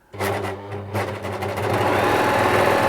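A Bernette 610D serger runs at full speed with no thread: a dense, steady mechanical whir that starts abruptly after a brief stutter and holds loud and even to the end.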